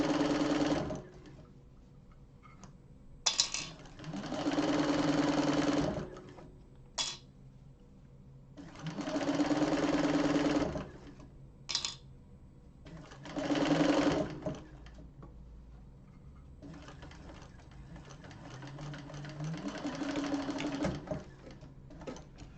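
Sewing machine stitching a seam on a leather-style satchel in a class, running in several bursts of a few seconds each separated by brief pauses, close and fairly loud with no talk.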